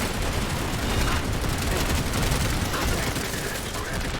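Dense, continuous automatic gunfire in the sci-fi shooter Planetside 2, a steady loud rattle of rapid shots with no pauses across the whole stretch.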